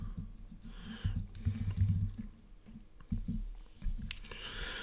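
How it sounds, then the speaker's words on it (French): A search word is typed on a computer keyboard, irregular soft key clicks in short bursts with pauses, close and fairly quiet. "je vais taper par exemple"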